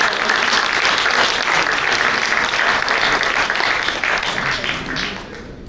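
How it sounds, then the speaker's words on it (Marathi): Loud, sustained applause from an audience at a book lovers' gathering, tapering off toward the end. "सुद्धा एकदा टाळ्यांचा कडकडाट"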